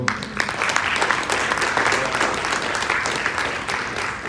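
A community audience gives Brother Travis a round of applause, many hands clapping in a dense, sustained wash that fades slightly toward the end.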